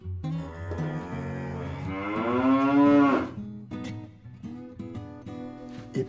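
A cow moos in a single long, drawn-out call that rises and swells, heard close and alone against a soft rural backdrop with faint background sounds.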